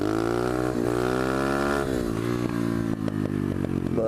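Pit bike motorcycle on backwoods trails during a wheelie, engine droning close and loud, pitch sliding up then dropping, followed by choppier revving and clattering bursts.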